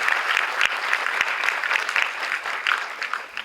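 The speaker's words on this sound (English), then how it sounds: "let us welcome him with a very big round of applause" An audience gives a steady, full round of applause to welcome a speaker at an evening talk on modernizing Indian cities, dense clapping from a sizeable crowd with a few sharper individual claps standing out.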